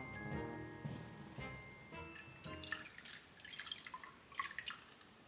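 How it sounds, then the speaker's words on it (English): Mirin is poured into a pot, giving a soft, close trickle and light splashing that builds into a brief stream of liquid. Faint tonal clinks come just before it. "Add mirin."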